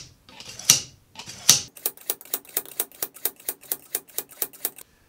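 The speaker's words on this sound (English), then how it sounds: "after a significant amount of time of dragging this knife through the sharpener" A knife pulled through a Bavarian Edge sharpener, two slower scraping strokes followed by a quick, even series of about a dozen sharp rasping passes, close and moderately quiet, no voices.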